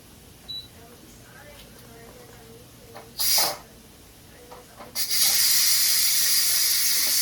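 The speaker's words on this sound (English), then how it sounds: "That's me letting that steam out." Steam escapes from a cooking pot of Colombian sancocho soup with meat and plantains: a short hiss burst, then a loud, sustained rushing hiss that runs to the end.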